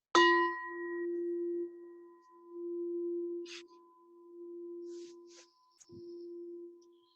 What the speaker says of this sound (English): So first I'll start by ringing the bell.